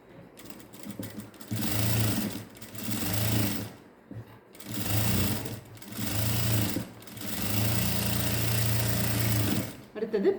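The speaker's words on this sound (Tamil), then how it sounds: "அடுத்தது அது மேலே ஒரு படிமான தையல் போடுங்க" A sewing machine stitches elastic into ladies' pants in several loud, steady runs of rapid needle chatter, separated by short pauses, with someone talking over it.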